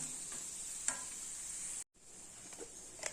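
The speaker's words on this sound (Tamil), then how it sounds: "இந்த உருளைக்கிழங்கு பாருங்க நல்லா ஃப்ரை ஆயிடுச்சு." Potatoes fry in a pan with a steady, close hiss of sizzling oil, broken by a brief cut to silence, with faint stirring ticks over the top.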